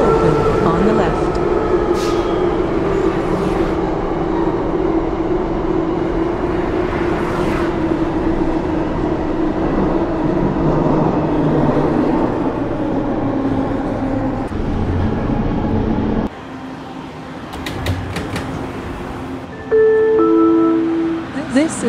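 A 1995 Bombardier ITCS Mark 1 SkyTrain Expo Line car runs toward Waterfront with a steady loud rolling roar and whine, then slows and quiets, followed by door chimes and an onboard announcement voice.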